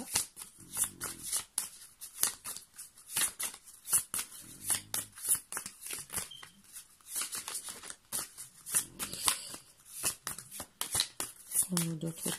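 Tarot cards are shuffled over and over close up, a rapid riffling and flicking in a steady stream of crisp bursts, with brief soft murmurs of a voice now and then.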